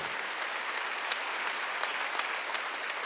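Steady applause from a church congregation during a Wednesday worship service, full and even across the whole stretch with no one speaking over it.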